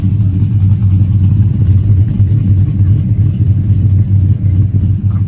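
Chevrolet Silverado with a TSP Chopacabra camshaft and Speed Engineering long-tube headers and full exhaust, revving in a steady, loud, deep rumble that holds through the whole stretch with little change.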